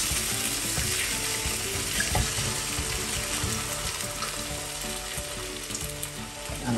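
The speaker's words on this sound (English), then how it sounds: "I will now add the egg whites." Egg whites for an omelette sizzle and crackle steadily in a hot pan, a dense, close frying hiss that holds level throughout without any speech.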